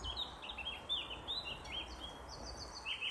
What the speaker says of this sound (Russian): Соловья все слышат, но не видят.